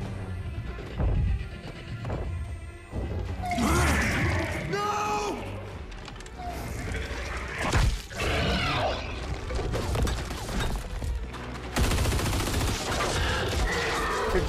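Gunfire rattles through a Gears of War 4 battle, with bursts of shots, crashes and impacts piling up over about fifteen seconds, loud and close, under frantic shouting voices.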